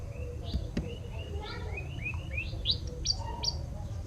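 White-browed robin-chat singing in Ugandan forest, a lively run of whistled rising and falling phrases repeated in quick succession, close and clear over a low ambient rumble.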